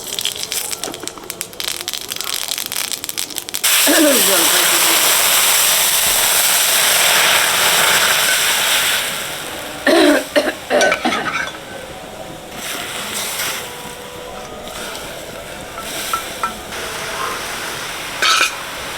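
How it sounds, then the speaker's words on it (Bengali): Mustard seeds splutter in hot oil, tempering an olive and jaggery chutney: a loud, dense burst of crackling and popping that slowly thins into scattered, fainter pops. "সর্ষে ফোড়ন দিচ্ছে"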